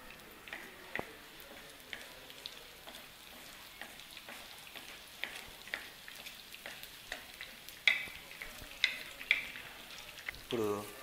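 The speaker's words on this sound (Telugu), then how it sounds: "నెయ్యి కొంచెం మరిగిన తర్వాత పోపు దినుసులు వేసుకుందాం." Tempering spices fry in hot ghee with a faint, steady sizzle, broken by small sharp pops and ticks that grow more frequent toward the end.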